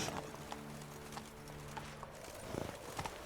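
Hoofbeats of the horse Roach in The Witcher 3, a steady clip-clop of hooves under a droning musical backdrop, with a few louder, closer footfalls near the end.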